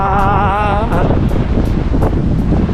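Steady, loud wind roaring across the microphone in a rainstorm in Edmonton, Alberta, with a rushing, surf-like wash throughout and a brief melodic sung or hummed tone near the start.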